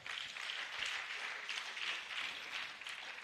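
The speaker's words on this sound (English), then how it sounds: "Please, a round of applause for her." Applause from an audience at a pharmacy scientific week event, a soft, distant, even patter of many hands clapping in a hall that holds steady throughout with no speech.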